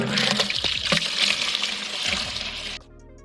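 Maple tree sap pours from a bucket into a 5-gallon container in a backyard, a close, continuous splashing rush that cuts off abruptly near the end and leaves a faint trickle.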